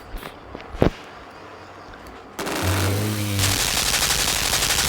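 Rapid gunfire bursts in the side-scrolling puzzle game Limbo, a loud dense rattle of repeated shots filling the second half after a quieter stretch with a single thump.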